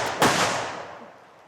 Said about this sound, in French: une bonne occasion pour tirer quelques coups de feu.